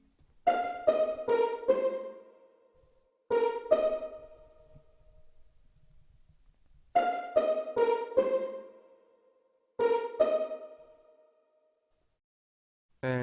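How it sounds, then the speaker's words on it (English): Plucked pizzicato strings from Monster Strings in an R&B sample play short rhythmic bursts of quick repeated notes, separated by gaps of near silence, clear and upfront. "the last instrument I added was a Pizzicato from Monster Strings"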